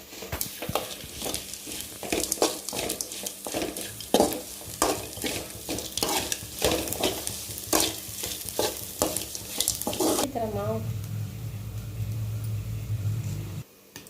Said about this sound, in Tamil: இது நல்லா வதக்கி விட்டுருவோம்.